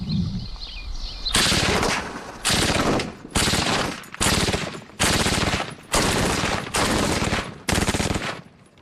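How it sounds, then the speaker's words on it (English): A SAW squad automatic weapon firing 5.56 rounds at a United States military training site, seven loud close bursts of rapid automatic fire separated by short pauses. "This is the SAW, Squad Automatic Weapon. It can put down a lot of firepower very quickly."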